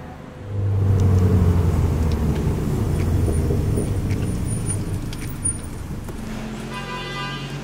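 A brand-new Alpine car fresh off the factory line, driven on the indoor mini test track: a deep engine rumble starts abruptly and holds steady, with no talk over it.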